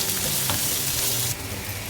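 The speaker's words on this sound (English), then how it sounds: "Now my onions and ginger garlic has been sauteed." Onions with ginger garlic paste sauté in a pan for a North Indian paneer gravy, giving a steady close sizzle with faint stirring scrapes.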